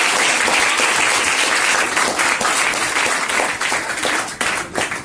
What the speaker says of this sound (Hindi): और अपने लिए तो ताली आप बजा सकते